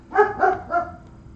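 Three quick, close dog barks in a row, each slightly softer than the last, with nothing else around them.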